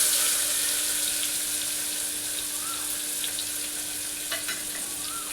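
Chopped onion frying in hot oil with cumin and mustard seeds, a steady close sizzle throughout with a faint crackle and a few soft pops near the end, no talk.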